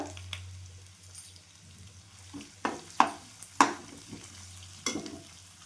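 Onion with ginger-garlic paste and cumin frying in oil while being stirred for a palak curry, a soft low sizzle broken by several sharp spoon scrapes and knocks against the pan, close up and without talk.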